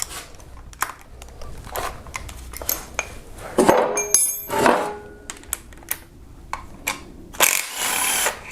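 Wrench work on the timing cover bolts of a Kia Optima engine during camshaft replacement: scattered metallic clinks and taps, a few ratcheting bursts and tool scrapes, close up and moderately loud against a quiet garage background.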